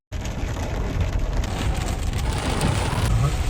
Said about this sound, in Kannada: ರೋಡ್ ಸತೆ ಕಾಣ್ಲಾರ್ದಂಗೆ ಮಳೆ ಹೊಡೆಯತೈತಿ